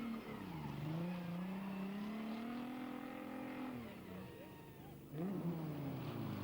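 A rally car engine drones and revs through a tricky stage on an old-school South African rally, pitch rising and falling as it works through an S-bend, with a commentator talking over it.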